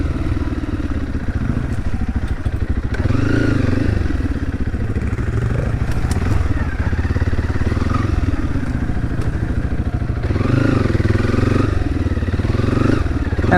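A dirt bike rides a trail in second gear, its engine a loud, close, continuous drone with revs that rise and fall and occasional clattering from the ride.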